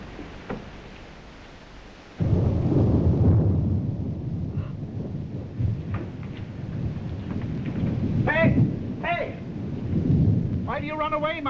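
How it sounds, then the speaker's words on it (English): Thunder in a summer storm: after a quiet patch a loud rolling rumble breaks in and trails off over steady rain and wind, with brief voices heard near the end. "Thunder."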